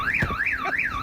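Car alarm going off as a played recording, a loud rising-and-falling electronic siren sweeping in a steady repeating cycle.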